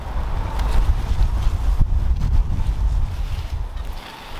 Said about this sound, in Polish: Okropnie wieje, ale trudno.